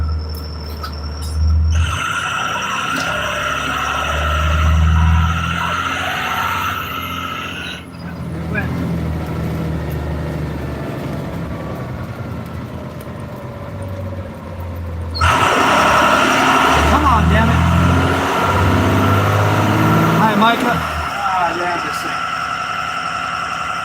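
A 1994 Cummins 12-valve diesel truck with P-pump and stage 2 47RH transmission, troubled by a TPS fault, drives with a steady engine drone and road rumble that swells and eases, while someone talks over it.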